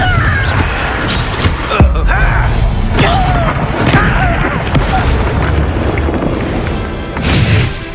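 Confringo fire spell blasting in Hogwarts Legacy combat, loud booming impacts and crashing hits over dense battle noise, with a voice speaking briefly.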